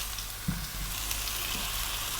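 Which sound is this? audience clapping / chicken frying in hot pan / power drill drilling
chicken frying in hot pan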